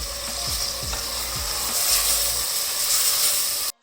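Red chillies and turmeric being mixed in a pan for a halwa puri and chana breakfast, a loud close sizzle with a few scraping stirs early on, cutting off abruptly at the end.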